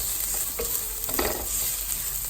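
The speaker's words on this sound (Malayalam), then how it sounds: "ഞങ്ങളിവിടെ വഴറ്റിക്കൊണ്ടിരിക്കുകയാണ്" Onion, green chili, curry leaves and ginger garlic paste sautéing in a pan outdoors, a steady close sizzle with a few stirring scrapes, no talking.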